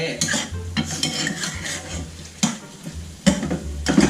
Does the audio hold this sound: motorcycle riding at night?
no